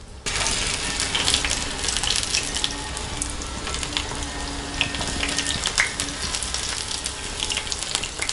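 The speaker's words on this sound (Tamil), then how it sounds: "இது நல்லா வெந்ததுக்கப்புறம் நம்ம திருப்பி போட்டுக்கலாம்" Brinjal slices sizzle steadily in shallow oil in a pan, a loud continuous frying crackle with small clinks and scrapes as the pieces are turned, no voices over it.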